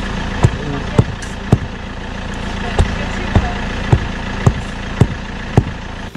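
A tractor engine runs steadily through a DIY house-foundation backfilling job, with sharp clanks and knocks landing about every half second, close and fairly loud.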